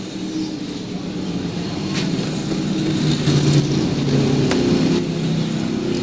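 Modified stock cars race at Lakeside Speedway, several engines droning together in a sustained, mid-distance roar that rises and falls slightly as the cars circle.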